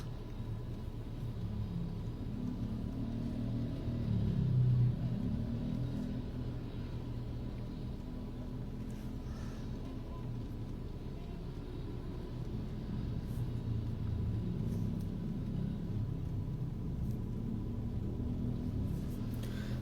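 Low steady rumble inside a car while driving, a constant muffled drone lasting throughout, fairly quiet with no voices.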